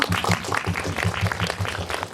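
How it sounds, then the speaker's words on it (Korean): An audience at a Korean film screening Q&A gives a steady round of applause, a dense, even patter of many hands at moderate distance that carries through the whole clip. "박수 한번 부탁드릴게요."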